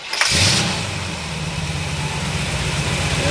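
A 1947 Ford Super Deluxe cranks briefly, catches and fires up, then settles into a steady, low, fairly quiet idle close by.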